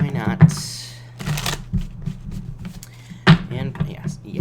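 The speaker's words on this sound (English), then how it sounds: "one more shuffle" Tarot cards are shuffled by hand during a reading, with several quick riffling bursts heard close up under a person talking.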